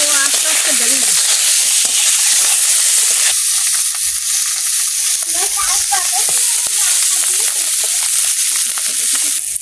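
Silver fish fries in hot oil in a pan, cooked with jackfruit seeds and Malabar spinach. The loud, continuous sizzle and crackle carries throughout, and a person talks over it.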